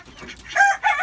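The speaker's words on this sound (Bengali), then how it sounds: "এই যে আমার মোরগ মুরগিগুলো এখনো ডিম অবশ্য দেয় নাই" Backyard rooftop chickens, roosters and hens coming to feed, give two short loud crowing calls close by, the second following a brief pause, with no talk over them.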